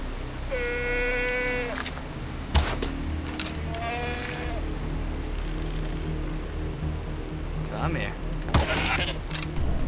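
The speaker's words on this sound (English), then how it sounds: "goats" Two wavering goat bleats in the video game Far Cry 3 sound a couple of seconds apart over a steady low hum, with a few sharp clicks and knocks scattered between them.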